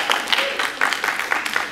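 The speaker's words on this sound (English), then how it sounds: "You can clap on that." Church congregation clapping during a Sunday sermon, a short burst of dense, fairly loud claps from many hands across the room.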